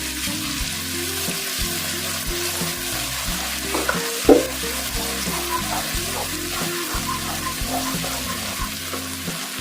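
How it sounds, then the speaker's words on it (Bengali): Garlic paste fries in a pan for mango pickle, a constant close sizzle with soft stirring scrapes and one sharper knock partway through. "রসুন বাটাটা দিয়ে দেবো। এবার আমি এটাকে হালকা করে 2-3 মিনিট ভেজে নেব।"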